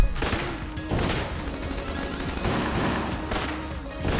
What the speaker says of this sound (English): I can hear lots and lots of bullets.